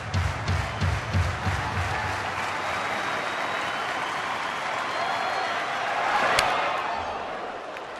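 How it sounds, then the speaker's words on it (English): A large crowd at a San Francisco Giants baseball game roars and applauds, a dense sustained wash of cheering and clapping that swells slightly near the end, heard without commentary. "the roar of the crowd"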